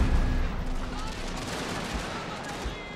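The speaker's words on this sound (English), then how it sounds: "No point in you firing standard round shot, fire canister instead" Cannon firing canister shot in a Prussian battle in a strategy video game; a heavy opening boom followed by a rattling spread of crackling gunfire, with a commentator's voice talking over it.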